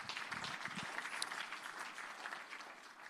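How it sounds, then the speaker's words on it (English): An audience at a G20 meeting of agricultural chief scientists applauds dignitaries with sustained, even clapping from a full room, heard at moderate distance without speech. "A round of applause once again for our dignitaries."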